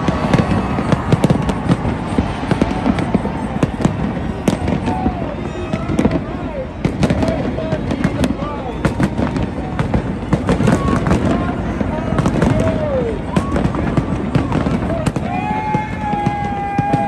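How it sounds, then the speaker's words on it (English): A New Year's fireworks show in Las Vegas on a rainy night, heard as a dense, continuous barrage of bangs and crackles from the crowd's vantage, with people talking and cheering throughout. "we stand in the goddamn rain to wait for a 5-minute damn fireworks show"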